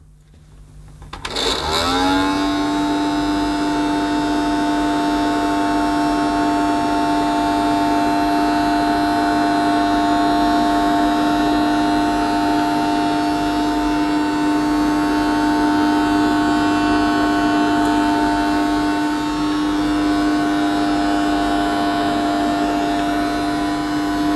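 A Theo Klein Hoover Purepower toy vacuum cleaner switches on and settles into a loud, steady, high-pitched electric motor whine that holds unchanged for over twenty seconds while it runs over a rug.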